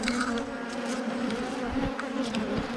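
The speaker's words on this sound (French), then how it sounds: "une abeille." Honeybees buzzing at a hive in an apiary in late March, a steady, close, continuous drone with individual bees passing near, no talking.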